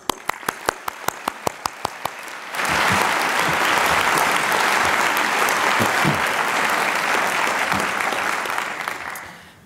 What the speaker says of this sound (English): one more time, we applaud you